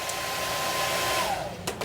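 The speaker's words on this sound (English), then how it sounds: "we just use a hair dryer." A hair dryer blows steadily and loudly on chocolate half spheres to melt their edges, a continuous whooshing whir, with a few faint knocks near the end.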